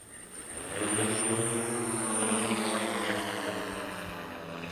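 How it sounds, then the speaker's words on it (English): An IF1200A multirotor drone spools up and takes off, its propellers building to a loud, steady buzzing drone with a rising and falling pitch, heard close and alone. "Increase the throttle to take off."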